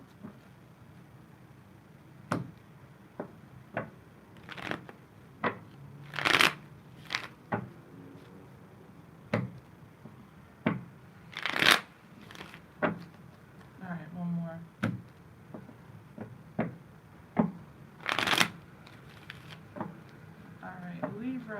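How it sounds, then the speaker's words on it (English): Tarot cards being shuffled at close range in a quiet room, a string of sharp riffles and soft card slaps separated by pauses, with a voice talking quietly between them. "A couple shuffles here."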